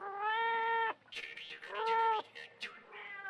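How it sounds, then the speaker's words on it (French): A thin black cat meows twice in long, drawn-out wails, with a brief human voice or rustle between the calls; close and clear. "le chat était là, maigre, noir, effrayant"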